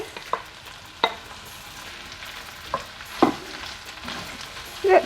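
Sausage, onion and sliced mushrooms frying together in a pan for a quick peasant-style one-pot dinner, a soft steady sizzle broken by a few sharp stirring scrapes and clinks, close and alone.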